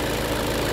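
A 2018 Audi A3 engine idles while warming up, a steady, even mechanical hum with a faint rhythmic knock that holds at one level throughout, with no voices.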